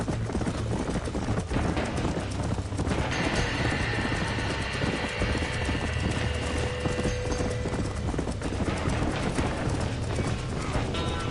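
Horses near a burning barn, hooves clip-clopping steadily and close throughout, with an occasional whinny amid a loud, dense roar of fire and commotion.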